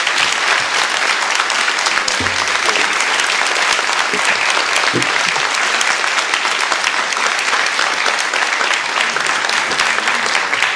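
A debate audience at the 2022 Richelieu provincial election debate applauds warmly, a loud, dense, sustained wash of clapping that runs unbroken for about ten seconds without speech.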